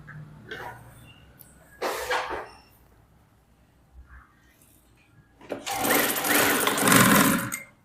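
A tailor's sewing machine stitches piping onto a blouse in a few short bursts of rapid mechanical whirring, the last burst longest and loudest, separated by quiet pauses.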